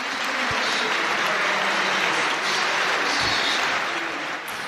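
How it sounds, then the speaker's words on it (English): Crowd of football fans at St James's Park giving a minute's applause for Christian Atsu before Newcastle played Liverpool, a dense, continuous roar of clapping from a large stadium audience, loud and steady throughout. "tonight there was a minute's applause for Atsu before his former club Newcastle played Liverpool at St James's Park"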